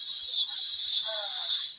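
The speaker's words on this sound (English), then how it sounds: "the cicadas just got so loud too" Cicadas drone loudly and steadily outdoors, a continuous high-pitched buzz that swells slightly in waves and fills the whole stretch without pause.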